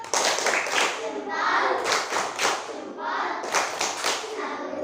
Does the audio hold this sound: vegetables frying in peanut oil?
no